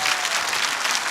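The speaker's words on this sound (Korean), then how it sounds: "박수." Brief, dense applause from an audience at a lecture, a steady wash of many hands clapping at once that fills the short moment without any voices on top.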